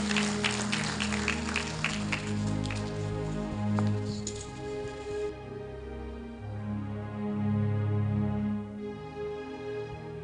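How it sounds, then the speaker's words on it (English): Audience applause at a university inaugural lecture, welcoming the chair to the stage: a dense patter of clapping over a steady low hum that thins out and fades about halfway through. "Let's welcome him with a round of applause."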